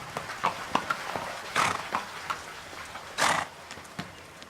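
A horse clip-clops across a floor, a handful of uneven hoof knocks with a couple of louder scuffing bursts, close and otherwise quiet.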